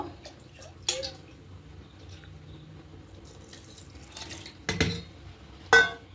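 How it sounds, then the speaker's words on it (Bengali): Water is poured from a small vessel onto ginger, green chillies and sugar, heard as a few brief close splashes and pours among scattered kitchen clatter. "এবার একটু জল দেব।"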